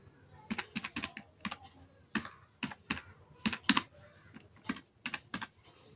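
Computer keyboard typing heard close up, quick bursts of sharp clicky keystrokes with short pauses between groups, no talking.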